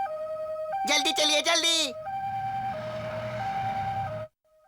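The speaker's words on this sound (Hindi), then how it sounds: "एम्बुलेंस की आवाज" A cartoon ambulance siren wails in a steady alternating two-tone pattern, loud and close. A voice briefly speaks over it early on, and the siren stops suddenly near the end.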